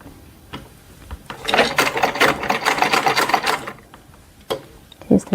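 A sewing machine stitches around a circle while small doll clothes are being sewn, with a soft start, then a few seconds of fast, close rattling whir before it stops and a couple of clicks follow.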